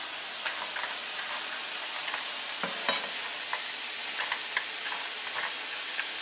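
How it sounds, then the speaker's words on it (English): Cashews, vegetables and shrimp stir-fry over medium-high heat in a pan, giving a steady, loud sizzle with scattered crackles and stirring scrapes throughout. "I'm going to throw in the cashews."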